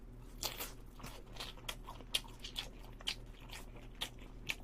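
Soy garlic BBQ fried chicken breaks under repeated crisp, crackling bites and steady chewing, close and fairly quiet, with no talking.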